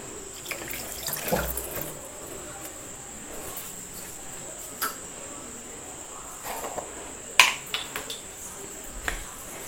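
Tap water splashes into a kitchen mixer jar as it is rinsed with a little decoction for homemade hair dye, heard as faint, intermittent gushes and clinks over a quiet background with a steady high insect-like chirp.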